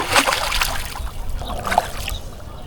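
A rowboat is paddled on Rai Shar Beel, a lake in Chuadanga, Bangladesh, about seven feet deep, with close paddle splashes, trickling drips and sloshing water in uneven strokes.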